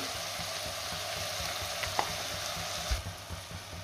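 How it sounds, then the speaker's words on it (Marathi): Soaked rice sautéed in hot oil for chicken rice, a soft continuous frying sizzle with a couple of brief utensil clicks near the end. "आता तांदूळ आपल्याला चांगला 2 मिनिटं तेलावरती परतून घ्यायचा आहे।"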